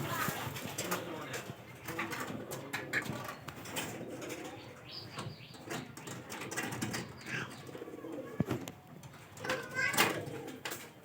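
A pigeon coos softly and repeatedly at close range, with rustling, light fluttering and scattered clicks around it as a person talks quietly nearby.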